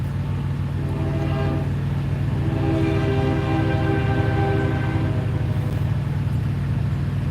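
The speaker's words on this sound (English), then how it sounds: "Here comes the train." Train passing close by, a steady loud rumble of rail cars with sustained horn tones held across the whole stretch, heard from a truck with no talk over it.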